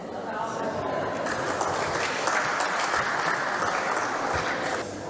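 Applause from an audience at a Swiss political debate, a steady crowd clapping that swells slightly midway and fades near the end, with voices faintly present beneath.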